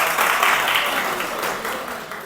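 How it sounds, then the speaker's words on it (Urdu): An audience breaks into a burst of applause at a talk on court language and legal careers, dense clapping that starts loud and gradually fades. "تالیاں ہو جائیں سر کے لیے"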